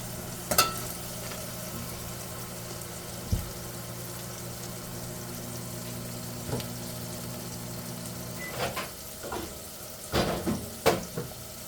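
Garlic and onion frying in a pan for a white radish curry give a soft, steady sizzle under a low hum, with a few sharp clinks of a utensil scattered throughout.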